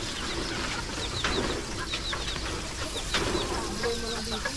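Chickens on a farm in the countryside: repeated clucks and short calls from several birds, near and farther off, over a steady outdoor background with no talk.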